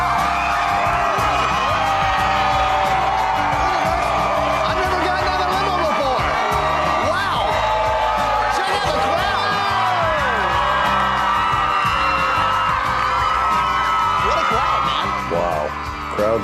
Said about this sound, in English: crowds of people cheering for us. Thousands of people.